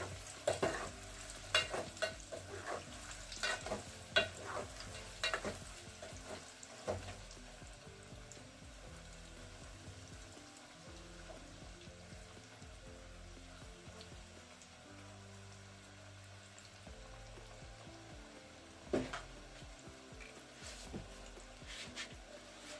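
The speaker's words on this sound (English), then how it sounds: "So you just have to deep fry them until they're golden brown." Chicken nuggets deep fry in hot oil with a quiet, steady bubbling sizzle, broken by clustered clinks and stirring clatter early on and again briefly later.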